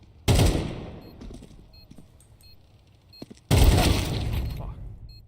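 Two loud bursts of rapid gunfire in a Counter-Strike 2 match, each a dense volley lasting about a second or more, separated by quieter clicks and game sounds, with a player talking in between.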